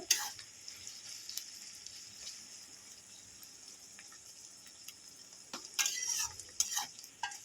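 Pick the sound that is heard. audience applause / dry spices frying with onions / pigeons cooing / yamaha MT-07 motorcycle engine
dry spices frying with onions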